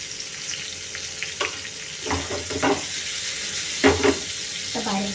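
Prawns and Bombay duck fry together in a pan with a steady, moderate sizzle. A few louder scraping and clinking bursts from stirring stand out near the start and end.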